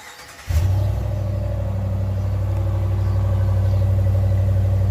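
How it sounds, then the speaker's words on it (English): A 2020 Ram Warlock truck with its factory exhaust fires up, a short crank breaking into a loud, steady low idle rumble that holds close and alone. "here we go with the startup. This is going to be your factory exhaust"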